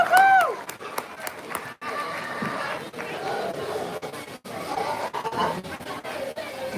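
Crowd applause and cheering at a hog show fill the air loud and sustained, with a few whoops and animal calls over the clapping and a voice talking briefly at the start.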